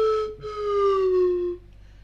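A slide-piston flute plays a short halting tune, a pure whistling tone stepping through a few sustained notes with a brief gap between them, close and alone.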